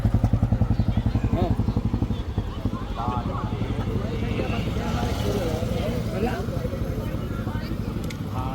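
A motorcycle engine close by at the Kumbh Mela near the Triveni Sangam in Prayagraj, its rapid throbbing putter strongest at the start and then blending into crowd noise, with people talking over it.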